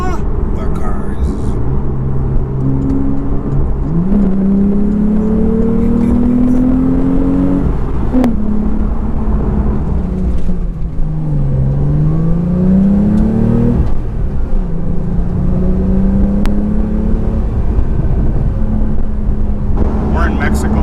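A Porsche 911 Carrera T engine, heard from inside the cabin while driving in Mexico, revs up through several gears in repeated rising pulls, loud and close over constant road rumble.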